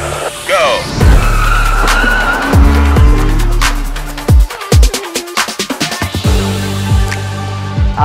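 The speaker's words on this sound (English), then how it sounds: "आज हम आए हैं ब्रिजस्टोन प्रूविंग ग्राउंड में, जहां हमको लेटेस्ट BMW की गाड़ियां चलाने को मिलेंगी" Latest BMW cars are driven hard on a Bridgestone proving ground, with loud engine revs, tire squeal and skidding that swell and fade in bursts, close by.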